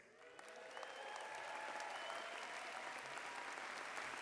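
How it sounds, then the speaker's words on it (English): A commencement ceremony crowd claps continuously for graduates in a steady, even round of applause that fills the whole moment, slightly distant, with a few cheers mixed in. "We give these graduates a big round of applause"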